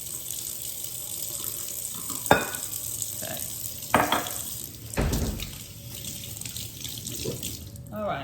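A kitchen tap runs steadily as water fills a cup, with a few clattering knocks and splashes along the way.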